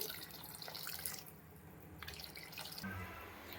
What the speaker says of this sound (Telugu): కొన్ని వాటర్ అయితే యాడ్ చేస్తున్నానండి